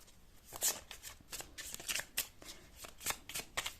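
Tarot cards shuffled by hand at close range, a steady run of papery riffles and flicks in quick bursts, fairly quiet with no talking over them.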